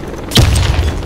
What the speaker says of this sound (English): Throw a grenade and hit multiple